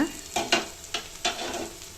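Tomato masala for a cauliflower gravy fries and is stirred in a pan, with a steady sizzle broken by four sharp scraping strokes of the spoon, close and alone with no voices.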